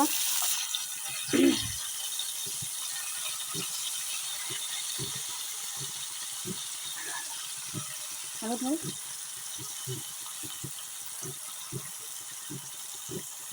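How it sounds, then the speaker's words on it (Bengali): Prawns for chingri balachao are dropped a few at a time into hot oil, giving a steady hiss and sizzle with a burst at the start, punctuated by regular faint clicks and taps. "এবার আমি চিংড়ি মাছগুলোকে অল্প অল্প করে তেলে দিব"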